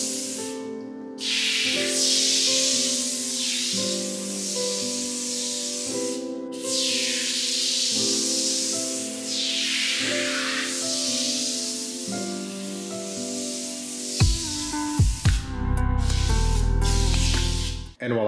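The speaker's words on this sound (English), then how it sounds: "I'm gonna take the tire foam and spray it around the wheel." Tire foam sprays in repeated hissing bursts around the wheel of a Nissan 350z during a car wash, close and steady, ending with a few clattering handling noises.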